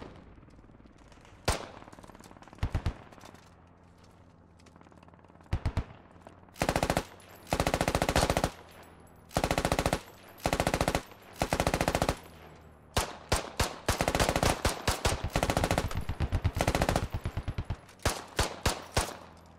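Automatic gunfire in the video game Squad rattles in repeated bursts, some long and sustained, others short and clipped, loud and close, with a low background rumble between volleys.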